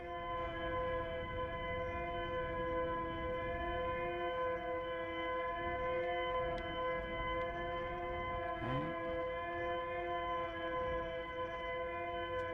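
A steady electronic distress beacon tone from the game Outer Wilds drones on, layered harmonic pitches holding constant, with a short rising sweep near the end; no talking.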